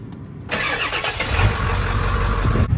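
A 1997 Ford pickup with a 7.3 Powerstroke diesel engine cranks and fires at about half a second, settling into a loud, steady, close diesel clatter at idle.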